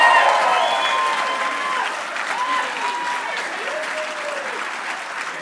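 Audience at an awards ceremony for a drama festival gives loud applause that fades a little but carries on, with voices audible over the clapping.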